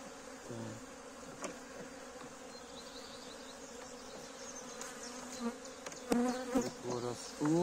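Honeybees buzz steadily around an opened beehive during early-spring expansion, a close, continuous hum under occasional faint speech.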